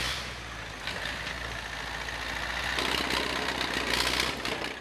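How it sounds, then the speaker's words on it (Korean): A logging tractor stuck in snow in the Russian forest strains with a loud, continuous engine roar that builds and rises in effort, close and unbroken, with no voices over it. "트랙터가 눈길에 빠져버린 것이다."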